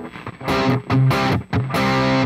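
An electric guitar runs through a BOSS GT-1000 CORE multi-effects unit with its noise suppressor on, playing loud distorted chords in short bursts. Each burst is cleanly cut between strikes, with no talking.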